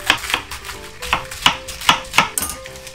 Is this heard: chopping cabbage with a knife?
yes